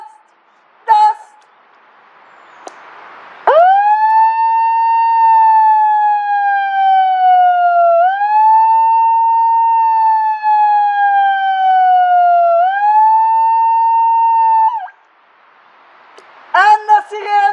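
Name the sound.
megaphone siren at full volume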